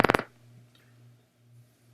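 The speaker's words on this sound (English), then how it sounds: "a different set of cells would burst like this." A different set of rat hippocampal place cell neurons bursts as recorded activity, a quick cluster of a few sharp clicks at the start that gives way to a low steady hum.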